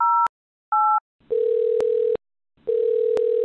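Telephone ringback tone from an unanswered call, two short dual-tone ring pulses followed by two longer buzzing tones separated by silence, clear and close with no talk.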